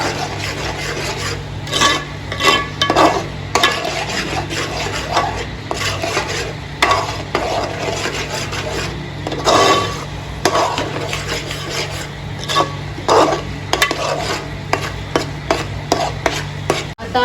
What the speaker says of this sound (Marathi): मिक्स करून घ्या